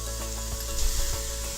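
Barley grains poured into a sizzling pot of three-bean chili make a soft rustling patter over a steady frying hiss, with a few small clunks near the middle.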